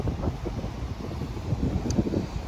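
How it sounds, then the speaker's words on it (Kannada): Strong wind blowing at the seashore near a beach parking area, a steady gusty roar buffeting the microphone throughout, loud and close with no talking. "ಅದರ ಕಂಡಾಪಟ್ಟಿ ಗಾಳಿ ಬೀಸ್ತದ."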